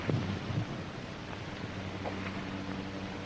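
Strong cyclone wind gusting steadily over an open outdoor setting, a broad continuous roar with a few louder buffets at the start, no talking.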